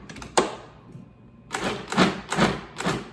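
A food processor briefly pulses chocolate chips into muffin batter for banana bread muffins with oats, giving a few short, close whirring bursts in a row after a single sharp knock.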